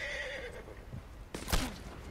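A horse whinnies in the Red Dead Redemption video game after being shot, a descending neigh up close, followed by a sharp gunshot-like crack and a brief second cry, over steady game ambience.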